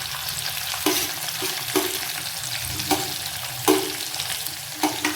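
Onion frying in oil with ginger, garlic and chili for paneer curry, a constant sizzle broken by regular scraping stirs of a spoon against the pan, close and clear.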